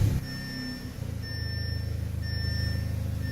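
An Audi S3 with an IS38 turbo engine starting up: a low, pulsing engine rumble that settles into a steady idle, with repeated high electronic chime beeps from the car sounding over it.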